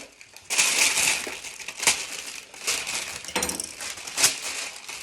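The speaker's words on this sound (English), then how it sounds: "I'm just going to line my baking tray with greaseproof paper" Crisp crinkling and rustling of greaseproof paper being cut and fitted to line a baking tray, in several bursts, close up, with a few brief sharp clicks in between and no talking.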